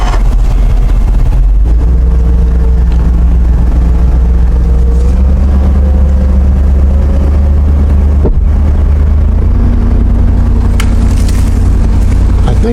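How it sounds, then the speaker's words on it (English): A truck shifted into 4-wheel drive hauls a log, its engine droning loud and close in a steady low rumble that climbs slightly in pitch, with a sharp clunk partway through. "We'll just put it in 4-wheel drive here to give it a little more gumption."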